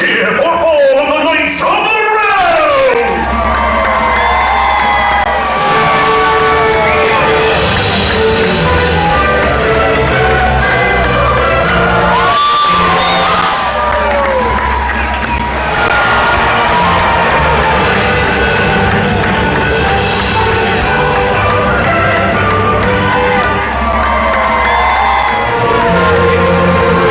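A large crowd at a Medieval Times dinner tournament show cheers and whoops loudly for the knights, a roaring, sustained swell of voices with shouts and applause rising and falling over music throughout.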